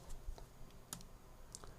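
A few scattered keystrokes on a computer keyboard, faint and close, clicking irregularly against a quiet background with no talking.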